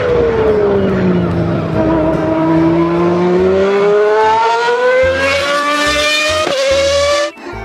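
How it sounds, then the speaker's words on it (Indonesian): Toy F1 race car engine sound, a loud continuous whine that dips and then rises steadily in pitch before cutting off abruptly at the end. "Yang ini mobil balap"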